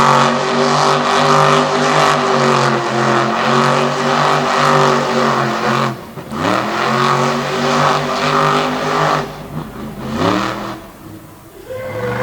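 A monster truck engine roars through a freestyle run at a Jennerstown event, loud sustained revving that rises and falls with abrupt throttle changes and sharp dips near the end.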